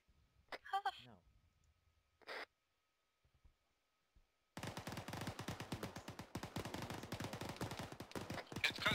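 Rapid bursts of automatic gunfire in a military shooter video game, a dense continuous stream of loud shots following a few seconds of quieter voices and scattered clicks.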